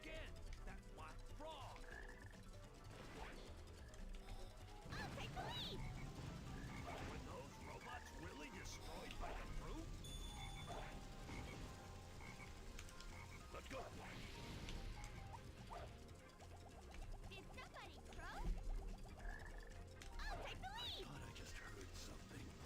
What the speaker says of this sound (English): There he is again. That black frog.